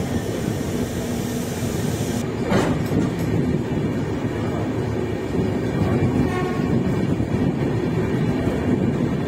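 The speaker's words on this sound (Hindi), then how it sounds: "और सामने डीजल लोकोमोटिव" An Indian Railways WDG4 diesel locomotive hauls a train past, a loud continuous rumble and roar of engine and rolling wagons that fills the whole stretch with no talk.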